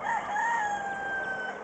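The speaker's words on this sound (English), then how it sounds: "Do you hear the rooster?" A rooster lets out a single long, wavering crow that is drawn out and held, heard clearly at moderate distance over faint background noise.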